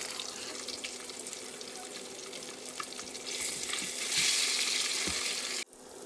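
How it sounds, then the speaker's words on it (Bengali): Pieces of katla fish frying in a wok give a steady, dense sizzle that swells louder midway, then cuts off abruptly near the end, with no voices. "এই মাছগুলো ভাজা হয়ে যাচ্ছে"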